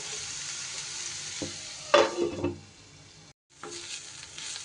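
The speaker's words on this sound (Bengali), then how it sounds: "ঢাকা চাপা দিয়ে দিয়ে পেঁয়াজটাকে আমি ভেজে নেব, যাতে পেঁয়াজটা বেশ ভালো করে লাল লাল ভাজাও হয়ে যায়" Onions frying under a lid in a pan, a steady soft sizzle with a few louder stirring scrapes and clatters near the middle and a brief silent gap, no talk.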